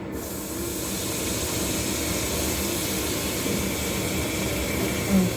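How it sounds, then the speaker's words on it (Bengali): Potato slices frying in hot oil make a steady, fairly quiet hiss that runs unbroken for several seconds, with no voices over it. "চলো এখন এই আলু ভাজাগুলো দিয়ে দিচ্ছি"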